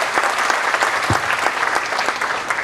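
Warm, sustained applause from a crowd at a state-level drama competition, dense clapping with scattered sharper claps and a low thump partway through, loud and close.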